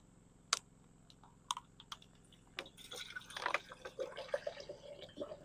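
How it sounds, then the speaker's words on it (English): Water trickles and drips into a coffee pot at a remote truck campsite, a faint close pour with light splashing that grows busier toward the end, alone without talk. "Get a little water in the pot here."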